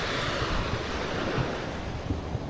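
Sea waves wash steadily onto the sand at Saeng Chan Beach, a continuous roar of surf mixed with gusty wind buffeting the microphone.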